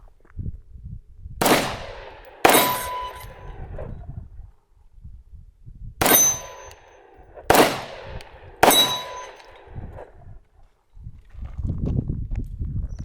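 Walther PDP F Series pistol firing at steel targets: five sharp shots, each a loud crack followed by a ringing metallic clang from the steel, spaced irregularly over several seconds with quiet gaps and some low background noise.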